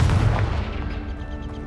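A Confringo spell explosion in Hogwarts Legacy: a loud, heavy boom bursting at once, its low rumble rolling and fading away over about a second and a half.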